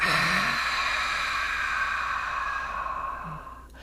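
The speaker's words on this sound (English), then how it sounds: "first inhaling and exhale out your mouth" An outward breath through the mouth during yoga breathing practice, a long airy sigh-like exhale held for several seconds that slowly fades, close and soft, with no talking.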